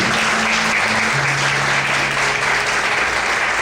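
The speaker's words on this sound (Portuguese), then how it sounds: "Vamos aplaudir o Senhor bem forte na vida." A church congregation claps loudly and steadily throughout, a dense continuous roar of hands with faint sustained tones underneath.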